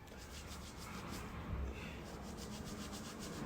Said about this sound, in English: I take the same sock and I just scrub it gently though until the glue is off.